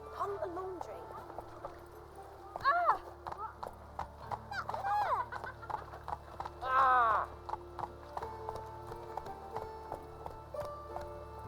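Hooves of Roach, a horse in The Witcher 3, clip-clopping in a steady rapid rhythm, loud and close, with a whinny partway through and voices talking over the hoofbeats.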